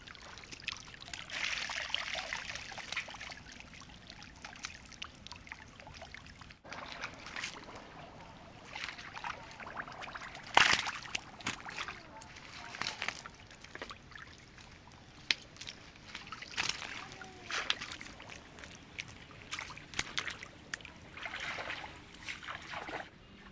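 A fishing net is hauled out of a village pond, water splashing and trickling off it in uneven bursts and drips, fairly faint with quiet outdoor ambience and no talk.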